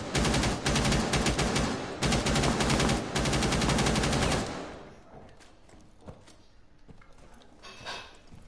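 Loud, fast automatic fire in a video game hammers continuously for about four seconds with brief breaks, then gives way to quieter scattered shots and ambient noise.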